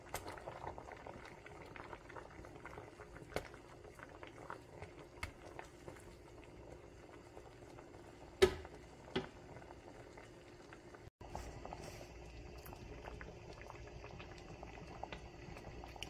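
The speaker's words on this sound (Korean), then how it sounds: "10분간 끓여줍니다." Broth with kelp simmering in a pot on the stove for stock, a soft, steady low bubbling close by, with a couple of brief clinks and a short thump partway through.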